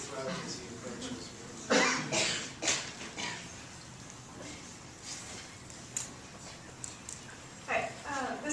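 In a student government debate hall, someone clears their throat and coughs in a few sharp, close bursts, separated by quieter stretches of room noise.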